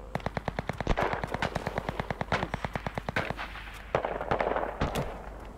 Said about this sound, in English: I hear bullets.